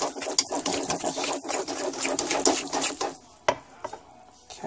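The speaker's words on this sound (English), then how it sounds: "Stir, stir, stir." A whisk or spoon scrapes and clicks steadily around a bowl of pumpkin cake batter, a quick close rhythmic swishing that slows near the end with a few sharper knocks against the bowl.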